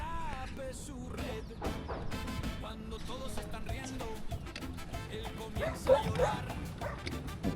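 Several dogs bark and yip excitedly in overlapping bursts under a bridge in Guatapé, Colombia, with some whimpering and a person's voice mixed in amid outdoor noise.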